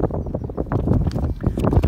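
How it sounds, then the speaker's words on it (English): Wind gusting outdoors, buffeting the microphone in a loud, uneven rumble that rises and falls throughout without pause. "It's getting a bit windy"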